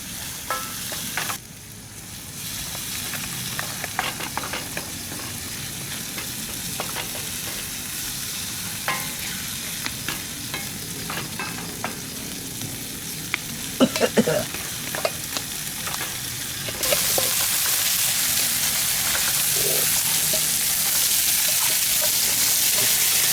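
Crispy genjer frying in a pan while being stirred, a steady loud sizzle and hiss with scraping stir strokes, growing more intense near the end, with little talk.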